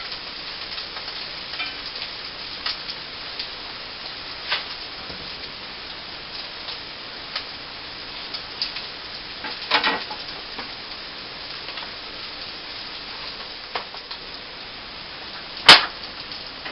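Scrambled eggs cooking slowly over turned-down heat in an iron skillet give a steady, soft sizzle with small crackles and pops, alone, with one sharp click near the end.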